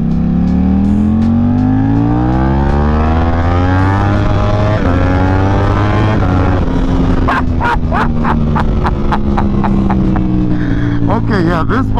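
A Ducati Panigale V4 SP2 is ridden hard. Its loud, close engine revs climb and fall through several gear changes, followed by a burst of sharp crackling pops on the overrun.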